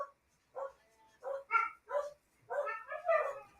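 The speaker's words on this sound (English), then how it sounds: "So my apologies for the dogs in the background." Dogs barking close by in a series of sharp, separate barks, some higher and yappy, with brief quiet gaps between them.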